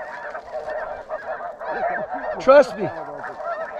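A flock of geese honks repeatedly in flight during a duck and goose hunt, with overlapping calls rising to one loud honk while a hunter speaks briefly.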